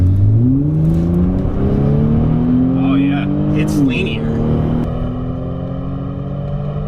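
A Kia Stinger GT2 AWD engine revs up hard through rising gears, the tone climbing and shifting, heard from inside the cabin while a person speaks briefly.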